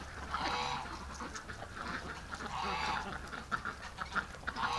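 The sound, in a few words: duck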